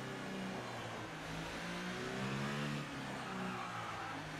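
Formula 1 car engine in the F1 2018 racing game screaming at high revs, a steady loud droning whine with rising harmonic sweeps as it over-revs, continuous throughout with no talk.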